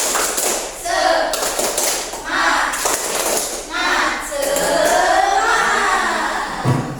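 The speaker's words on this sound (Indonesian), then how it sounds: "Jadi yang pertama adalah tepuk semangat." A class of children claps out the rhythmic 'tepuk semangat' clapping chant in a classroom, the loud patterned claps mixed with the children's voices.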